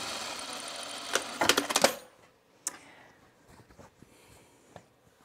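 A sewing machine stitches tucks on a top in a quick rattling run of close stitches lasting about two seconds, followed by a sharp click and scattered soft handling taps.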